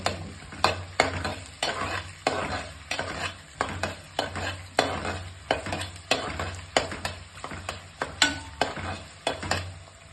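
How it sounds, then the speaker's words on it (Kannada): Onions frying in hot oil in a pan, stirred with regular scraping strokes that come roughly every half second over a continuous sizzle, close and steady, with no talking. "ಈರುಳ್ಳಿ ಹಾಕ್ಬಿಟ್ಟು ಚೆನ್ನಾಗಿ ಅದು ಫ್ರೈ ಆಗಬೇಕು."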